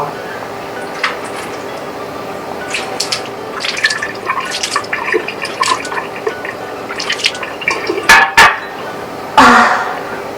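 Rice water is used to wash a face, with soft drips and light splashes that grow into a few louder splashes near the end, while someone talks over it.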